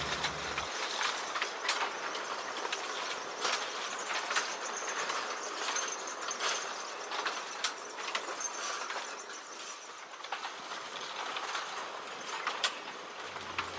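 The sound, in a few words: Diema locomotive no. 7 pulling long train of empty sugarcane wagons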